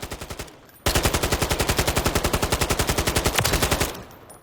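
The 74M machine gun fires in Call of Duty: Modern Warfare III. A few quick shots are followed by a long, loud, rapid sustained burst of evenly spaced rounds that stops suddenly, with no talking.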